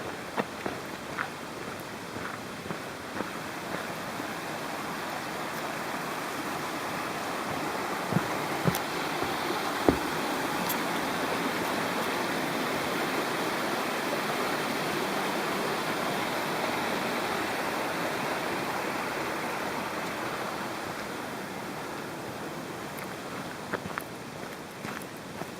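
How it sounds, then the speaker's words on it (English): Steady rushing of a stream on the West Highland Way between Crianlarich and Bridge of Orchy, a continuous broad hiss nearby, with occasional soft footsteps and small knocks over it. "I can hear running water."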